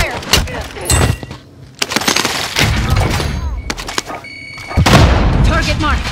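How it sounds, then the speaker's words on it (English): A Call of Duty Modern Warfare prison fight mission fills with bursts of gunfire and booming explosions, loud and near, in several separate blasts. Radio-style voices talk over the combat. "I'm under fire."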